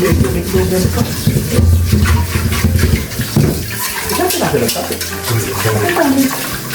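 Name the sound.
water splashing while boiling food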